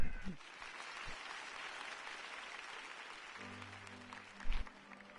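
Crowd applause from a gathering in Gotham in the Batman Telltale video game, a steady wash of clapping that fades out midway, followed by a low hum and a short thump.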